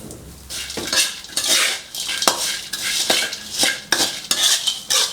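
Pork crackling tossed in a pan on low heat with salt and brown sugar, a metal utensil scraping and clattering against the pan in quick repeated strokes, close and fairly loud, with no talking.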